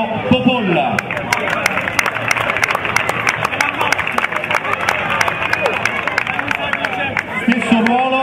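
A crowd applauds steadily as a player is introduced at a Fondi futsal team presentation, the clapping continuous and moderately loud, with an announcer speaking over it.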